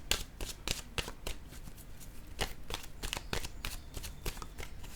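Oracle cards shuffled by hand in a steady run of soft riffling flicks and papery slaps, close but fairly quiet, with no talking over it.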